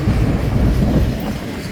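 A long freight train of containers rolls past near a ghost town on the Arizona border, loud and close, with a heavy rumble and rhythmic clickety-clack of wheels over the rails.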